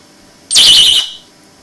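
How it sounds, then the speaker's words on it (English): An SSP fire alarm call point cover, triggered by lifting its lid, lets out a single piercing 96-decibel alarm tone. The loud shrill burst lasts about half a second before cutting off sharply. "as soon as you lift the lip of the cover, the ear-piercing alarm sounds"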